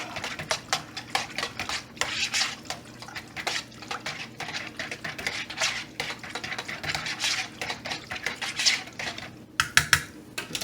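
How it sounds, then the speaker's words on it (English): Seasoning and pepper stirred into a meatball mixture in a bowl, a busy run of close clicking and scraping taps from the utensil, irregular and continuous, with no talk over it. "And then we're going to stir all of this up."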